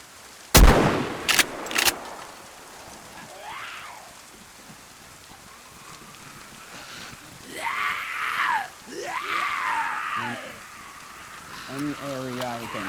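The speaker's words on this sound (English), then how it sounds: "I brought my shotgun" A few loud, close shotgun blasts at the start, three sharp reports in quick succession, followed by rainy ambient noise and voices talking.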